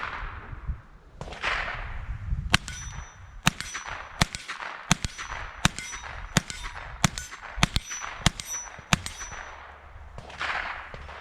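Winchester Wildcat .22lr rifle firing a string of sharp, cracking shots at a steady pace, about nine reports close by, each with a short ringing tail, plus faint handling noise between them.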